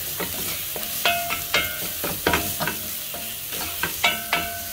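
Pilau ingredients with added ginger sizzle in a pan while a spoon stirs them, giving repeated sharp scraping clinks in an uneven rhythm over a constant close frying hiss.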